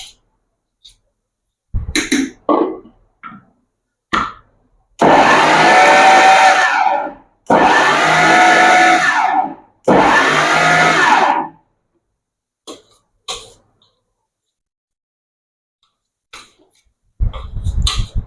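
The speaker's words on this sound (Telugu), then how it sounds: "మరొకసారి మిక్సీ పట్టుకుందామండి. మిక్సీని మాత్రం ఆపి ఆపి వేయండి, లేకపోతే ముద్ద వస్తుందండి." A kitchen mixer grinder blending tamarind leaf powder with garlic runs in three loud, close bursts of whirring, each a couple of seconds long, separated by short stops and light clicks of the jar.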